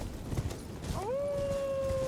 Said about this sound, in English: you're going to head toward the sound of the howling